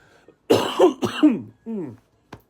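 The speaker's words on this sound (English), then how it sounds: "I'm still suffering a cough." A few harsh, close coughs and throat-clearing bursts in quick succession, followed by a short pause and one small final cough.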